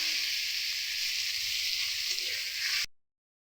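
Potatoes sizzle in a pan with melted tomato and spices, a steady close frying crackle that runs unbroken for a few seconds before cutting off abruptly.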